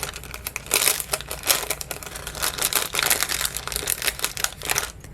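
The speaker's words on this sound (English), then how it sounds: "We can go ahead and tape that one down." Tape is pressed down over paper die-cut pieces for a handmade dog birthday card, a busy close crinkling and rustling that continues steadily throughout with no talking.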